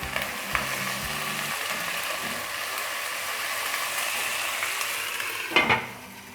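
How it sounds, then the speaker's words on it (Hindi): Onions fry with garlic paste for an Afghani Kabuli pulao, giving a soft, continuous sizzle with faint stirring scrapes and a brief clatter near the end, moderately quiet and without voices. "अब इसमें लहसुन पेस्ट 1 टीस्पून वो शामिल कर देते हैं। थोड़ा सा इसको सुनहरी करना है।"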